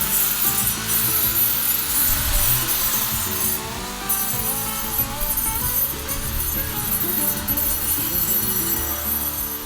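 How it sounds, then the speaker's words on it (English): A concrete cutter grinds steadily around the top edges of concrete blocks while building a raised garden bed at a homestead in Mongolia, a continuous loud abrasive rasp with slight shifts in pitch throughout. "I'm just taking the concrete cutter and just going around the top part of the concrete blocks"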